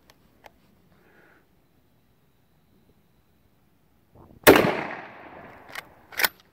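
A shotgun fires a single loud Remington buckshot shell outdoors. A sharp blast is followed by a decaying echo, and a couple of quieter clacks come after it.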